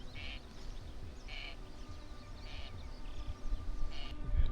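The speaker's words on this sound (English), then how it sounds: "if I'm silent for just a second, all you'll be able to hear is birds." Quiet outdoor ambience on a remote UK island, with birds calling in a few brief, regular bursts. The calls sound distant and quack-like over a steady wind-like background hiss.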